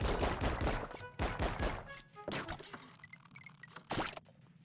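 Rifle gunfire in the video game Voidigo, several sharp loud bursts of shots in quick succession with metallic clinks, then a final shot before a fade to near silence.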